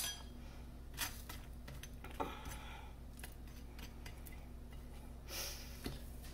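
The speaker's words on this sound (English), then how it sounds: "what I'm gonna do is just set my plate on top" A plate clinks down onto a pan of eggs cooking with corned beef hash, a bright metallic-ceramic clatter near 2 s and another near 5.4 s over a low steady stovetop hum, with a few lighter knocks between.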